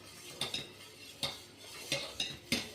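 A spoon scrapes and clinks against a pot of sabudana kheer in a series of short, sharp metallic strokes, about six in under three seconds, close and fairly quiet with no talking.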